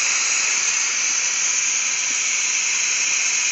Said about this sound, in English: The steam is now starting to come out of your valve right here.